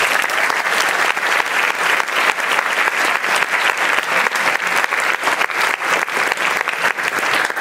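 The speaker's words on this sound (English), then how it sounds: "Can all teams, varsity, junior varsity, 9-10, freshman, and reserve give themselves a round of applause?" An audience at a school sports awards ceremony gives loud, steady, dense applause for the varsity, junior varsity and other teams, sustained with no break.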